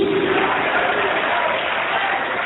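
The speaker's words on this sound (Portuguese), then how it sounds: "vamos aplaudir mais o Senhor" A church congregation applauds and cries out at a worship service, a dense continuous roar of clapping and voices filling the room at steady loudness.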